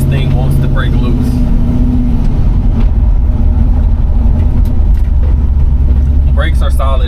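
LS V8 in a 1968 Chevrolet C10 pickup under light throttle, a loud, deep, continuous engine rumble from inside the cab that swells slightly as it pulls, with someone talking over it.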